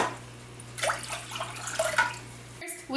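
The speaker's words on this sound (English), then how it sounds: "Next, we fill our pot up with 5 cups of water." Water pouring from a tap into a cooking pot on a stove while noodles are being made, a splashing gush that starts partway through and cuts off near the end, with a voice talking briefly over it.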